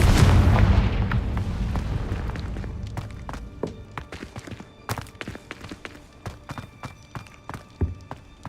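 Confringo fire spell from Hogwarts Legacy going off as a heavy blast that rumbles and decays, followed by scattered sharp impacts and footsteps in the game.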